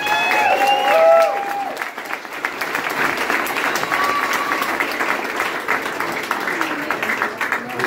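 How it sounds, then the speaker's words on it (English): Wedding guests applaud at a reception after a speech, steady dense clapping from a room full of people lasting several seconds, with a few voices and faint tones over it at the start. "So a round of applause for Jimmy."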